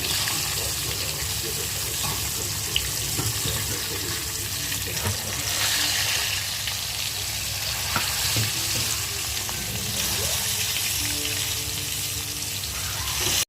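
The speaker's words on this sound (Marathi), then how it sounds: "किती मस्त मच्छी फ्राय झालेली आहे." Pomfret fish frying in oil in a pan, a steady dense sizzle running throughout at moderate loudness, with occasional small clinks of a utensil turning the fish.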